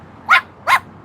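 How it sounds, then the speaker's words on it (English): A dog across the street gives two sharp barks about half a second apart, clear and fairly loud against a quiet outdoor patio backdrop. "there's a dog across the street"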